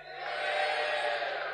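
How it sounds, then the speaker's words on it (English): A church audience cheers together on a countdown, a steady broad roar of many voices that swells and holds for over a second. "They're better than you lot at cheering."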